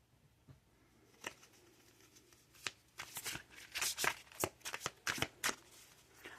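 Tarot cards are shuffled by hand, giving quiet scattered flicks at first and then rapid, papery riffling bursts that grow busier toward the end.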